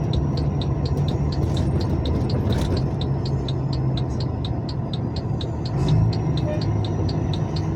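Steady road traffic rumbles along the BR 324 highway near a roundabout, with engines droning continuously close by and a regular ticking pattern running through it.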